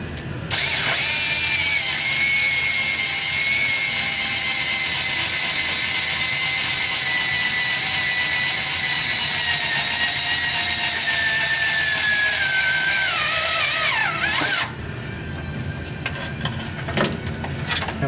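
A power screwdriver drives a screw through a panel on a 1970 Barracuda, a loud steady whirring whine lasting about fourteen seconds that dips in pitch near the end and then stops abruptly.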